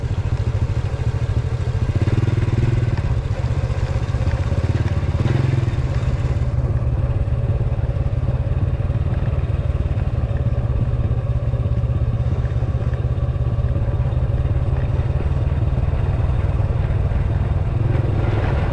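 A motorcycle engine runs loudly and continuously, a close, rough rumbling drone with some clatter as the bike rides slowly along a wet road in the Philippines.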